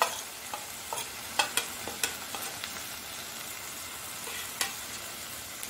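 Ground turmeric, fennel, coriander, cumin and garam masala being roasted in a frying pan for egg curry: a steady close sizzle broken by sharp taps and scrapes as the spices are stirred.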